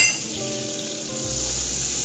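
Chicken sizzling and frying in a pan as tomato goes in, with a steady close hiss and a few light clinks of a utensil against the pan; no talking.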